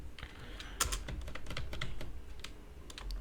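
Rapid typing on a computer keyboard while coding in Python, a dense stream of close key clicks with a few louder strikes, steady throughout, with no talking.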